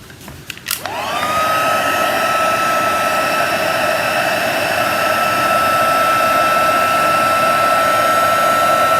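A heat gun starts up after a few clicks and blows steadily at close range, a loud, even whine and rush held without pause while embossing powder is melted.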